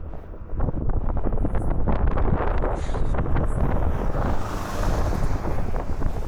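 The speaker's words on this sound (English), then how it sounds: "It's also quite windy." Strong wind in Armenia buffets the microphone in a steady, roaring rumble with gusty surges throughout, loud and close, with no other sounds standing out.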